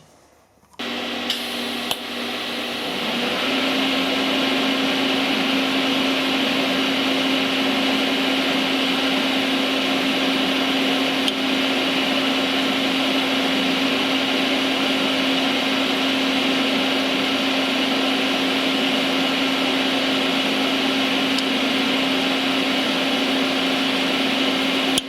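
Metal on a half-inch-thick vise mount is TIG welded in a workshop, producing a steady, unbroken hiss and hum with a faint tonal whine. It holds close and level for over twenty seconds with no talk.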